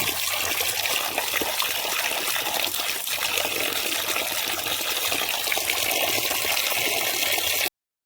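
Clams washed before frying, with water running and splashing steadily over them at close range, a continuous trickling rush that stops abruptly at the end.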